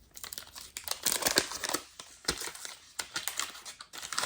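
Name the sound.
opening an old wax pack of Topps trading cards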